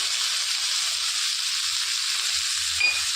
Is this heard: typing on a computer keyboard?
no